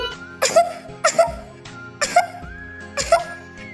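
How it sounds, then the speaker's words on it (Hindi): A cartoonish voice coughs hard in four loud, evenly spaced bursts, each a rough double hack with a strained vocal edge, over a soft background. "गुड़िया जैसे ही शरबत पीती है, जोर जोर से खांसने लगती है।"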